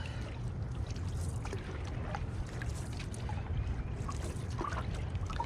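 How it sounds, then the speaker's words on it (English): Outrigger canoe paddling on open water, a steady wash of water and hull noise with soft, faint splashes and dribbles from the paddle strokes, fairly quiet throughout. "Let's work on your OC technique, or at least let's paddle"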